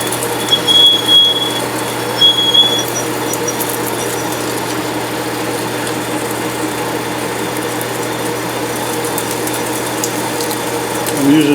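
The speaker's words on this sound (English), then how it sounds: "Okay, now we're set up to drill." A lathe runs with a steady mechanical hum and grinding drone as a drill cuts aluminum lubricated with WD-40, punctuated by a few faint high squeals.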